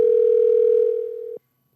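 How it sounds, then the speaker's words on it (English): A telephone line gives a loud, steady electronic tone that holds level, fades slightly, then cuts off abruptly after about a second and a half, leaving silence. "Pick up your phone"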